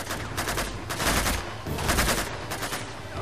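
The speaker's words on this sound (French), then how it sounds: "Il y a des coups de feu." Gunfire in the video game Uncharted 2, a dense, continuous burst of rapid automatic shots and crackling reports in overlapping waves, loud and sustained throughout.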